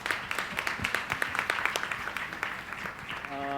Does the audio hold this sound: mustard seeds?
no